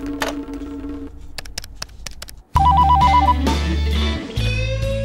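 A telephone rings with a warbling electronic tone, preceded by scattered clicks and tones, fairly loud and close.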